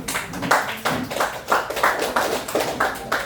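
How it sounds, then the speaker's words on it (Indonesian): Group applause for a student group in a classroom presentation, rhythmic clapping in steady bursts about twice a second, close and fairly loud with no talk. "Kita berikan aplaus dulu kelompok 4."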